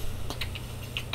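Quick keystrokes on a computer keyboard as a short command is typed into a Windows command prompt, several sharp, close clicks in a rapid, uneven run with a steady hum underneath.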